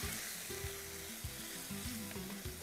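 Turmeric, chili and coriander powders fry in a pan with a continuous hissing sizzle, close and steady, while a utensil scrapes and stirs through them several times.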